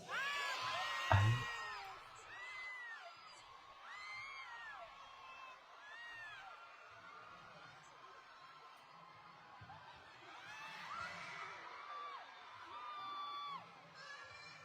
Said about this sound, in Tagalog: Grabe yung sigaw.